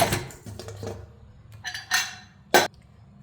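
Metal lid set on a pot of simmering vegetable curry: several light clinks and clatters, ending in one sharp close clang, with no talking.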